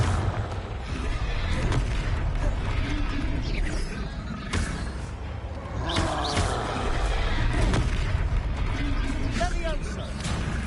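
Confringo explosive spells blasting in Hogwarts Legacy, repeated booms and crackling impacts over a rumbling game soundscape, with a voice speaking at points.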